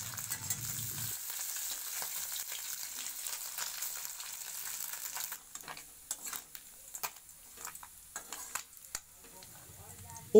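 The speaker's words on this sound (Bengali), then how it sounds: "মাছের এক দিকটা ভাজা হয়ে গেছে," Fish pieces frying in oil in a kadai and being turned over, with a continuous close sizzle broken by scraping and clinking from the turning.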